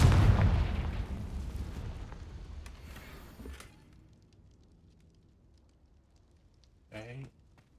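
A Confringo fire spell blast in Hogwarts Legacy, a loud booming burst that fades over a few seconds, followed by a short voiced sound near the end.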